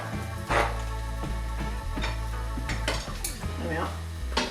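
Topping bits of cheese and tomato scraped onto an omelette cooking in a frying pan, with utensil scrapes and clinks against the pan over a steady low hum and soft sizzle.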